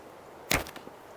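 An arrow leaves a Simsek bow with one sharp, quick release and a short whoosh, and a couple of faint rattles follow. The surroundings are otherwise quiet.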